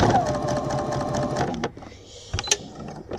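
A sewing machine stitches gathers in a loud, close, rapid mechanical chatter for about a second and a half, then stops, followed by a few faint clicks and handling sounds.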